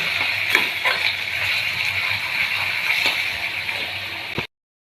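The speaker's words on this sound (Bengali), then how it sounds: "এখানে আলু ভাজা করছি" Steady sizzling of potatoes frying in hot oil, with occasional stirring clinks, close by and continuous until it cuts off abruptly near the end.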